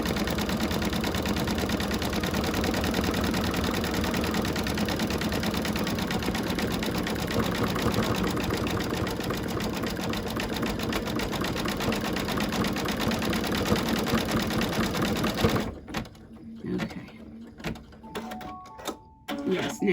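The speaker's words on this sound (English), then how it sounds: "I think my bobbin's going to need changing. I think that's the noise that I'm hearing." A sewing machine runs a fast, steady stitching rattle close by with its bobbin running low. The motor stops near the end, leaving a few short clicks and bursts.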